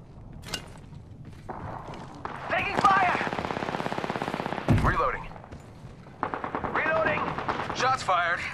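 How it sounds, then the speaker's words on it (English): Rapid automatic gunfire from the video game Apex Legends rattles in long bursts, with a heavy thump midway and game voice lines between volleys. "Shots fired, and they're hitting me."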